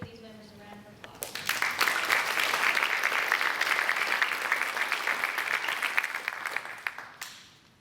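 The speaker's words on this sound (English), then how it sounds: "Please give these members a round of applause." An FFA banquet audience breaks into a burst of clapping that swells quickly, holds strong for several seconds, then fades away, with a voice briefly heard before it starts.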